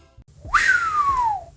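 A single breathy whistle that slides downward in pitch and trails off, thin and wavering like a failed attempt at whistling, heard up close and alone.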